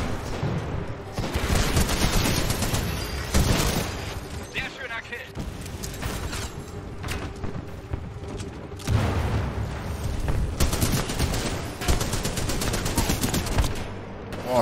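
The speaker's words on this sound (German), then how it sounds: "Die Leute schießen auf mich, weil sie alle beknackt sind im Kopf" Enemy gunfire aimed at the player in Titanfall 2: bursts of automatic shots and heavier booms come in waves, loud and near, with someone talking over much of it.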